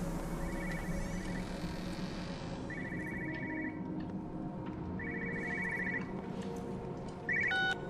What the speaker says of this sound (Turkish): Telefon çağırıyor bir yerde.